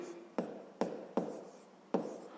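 A pen writes numbers on paper during a fifth-grade maths exercise, making four short, distinct scratching strokes at a steady pace, close and quiet.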